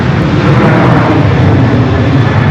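A Boeing 737 MAX 9 airliner coming in to land at LAX, with a steady, loud broadband engine roar that holds level throughout and no voices.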